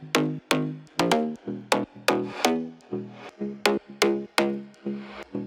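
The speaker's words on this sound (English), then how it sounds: "So I added another 4 basses and together they sound like" Four layered deep house synth basses stacked together play a punchy, plucky rhythmic riff of short repeated notes with sharp attacks and quick decays, heard alone.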